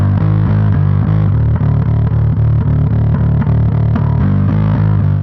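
A bass line, a loud, heavy, distorted low riff with steady repeated chugging notes played continuously.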